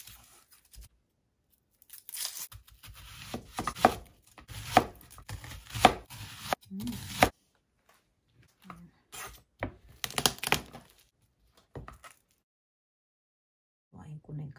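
Onion being chopped with a knife on a cutting board for a Filipino fish-and-tomato dish: quick bursts of crisp, close chopping strokes separated by quiet pauses.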